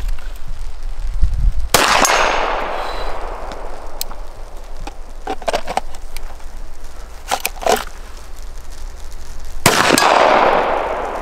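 An M45A1 pistol fires at a reduced-size steel silhouette target 50 yards away: a few sharp, loud shots, each followed by a fading ring, with faint metallic clangs in between.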